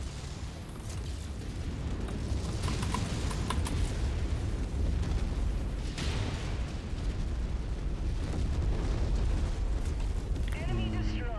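Explosion of a destroyed enemy mech in MechWarrior 5, a heavy rumbling blast with crackling debris that keeps roaring for several seconds, loud and dense.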